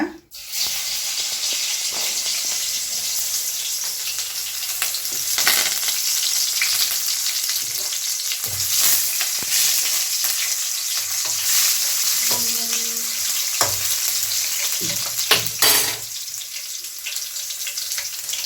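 Spices tempering in about two spoons of sesame oil in a home kitchen for a spinach soup, giving a steady, close sizzle that runs the whole time with occasional spoon-stirring clatter and no talking.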